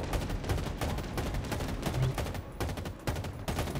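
Rapid bursts of gunfire in the shooter game Halo Infinite, with dense automatic shots cut by brief pauses, loud and close, with no talk.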